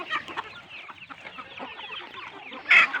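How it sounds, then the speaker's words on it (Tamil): Roosters fighting and clucking among a flock of chickens, with a stream of close, scratchy clucks and squawks, then a louder sharp squawk near the end. "எல்லா சேவலும் பாருங்கள் எப்படி சண்டை போடுதுங்க."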